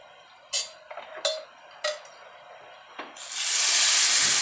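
A few sharp clinks of utensils on a pot, then a loud, sustained sizzling hiss surges up as cooked arhar dal is poured into hot tempering oil.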